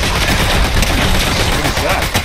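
A rapid volley of homing missiles fired in Fortnite, loud and close, rattling bursts and booms packed tightly together, with voices talking over them.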